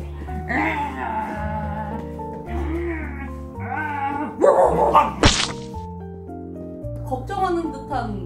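An angry Siberian husky barks and howls in drawn-out, whining, wavering cries close to the microphone, with a few sharp yips and thumps in between.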